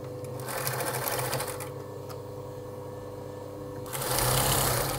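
A sewing machine stitches fleece fabric for a snood, running steadily and close up, its motor whir rising louder and faster near the end.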